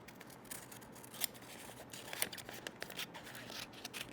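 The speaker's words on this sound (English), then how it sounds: "It's pretty easy to just follow it right around and just cut out a piece and then trim it as you go." Scissors snip steadily through material while cutting out a costume piece, a quick run of soft, close crisp cuts with no voices.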